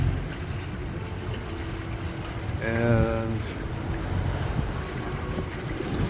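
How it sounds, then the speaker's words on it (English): A Beneteau sailboat out on the Gulf in four-to-five-foot swells, with a steady roar of wind and rushing water close to the microphone and a brief tonal hum in the middle; a voice speaks faintly. "Waves are running up to about 4 to 5, or the swells are running about 4 to 5 feet, with chop on top running"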